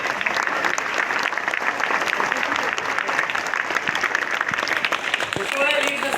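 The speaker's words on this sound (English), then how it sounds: "yes, you can clap for them" Audience at a school morning assembly in Dubai applauds steadily, a dense wash of many hands clapping from start to finish at even loudness.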